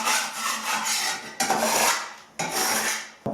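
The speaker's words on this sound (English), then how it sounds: "Any surfaces which have been painted and I can't remove the paint, which appear to be a little bit slippery, I'm just going to scuff up like this" A painted wall is scuffed by hand to roughen it before skimming with plaster, making three close, rasping scrapes in a rhythmic back-and-forth with no talking.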